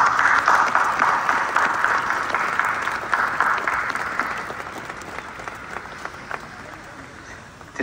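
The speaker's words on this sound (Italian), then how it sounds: "Un applauso al nuovo beato." A large outdoor crowd in St. Peter's Square at the Vatican applauds in a dense, steady roar of clapping that slowly fades over several seconds, with no voices over it.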